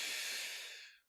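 One long, forceful exhale hisses out through the mouth during a twisting exercise in a functional flow workout with bands and a ball, heard close up, steady, then tapering off into silence.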